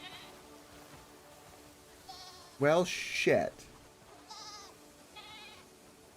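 Goats in the video game Crimson Desert, a big adult with little ones, bleat twice loudly and close, with fainter bleats later, over game ambience while someone talks.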